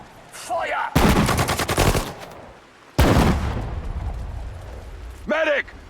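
Gunfire in Sudden Strike 4, a World War II strategy game during an Allied D-Day assault: loud rapid machine-gun bursts and rifle volleys in two heavy waves, with game voices and shouted commands between them.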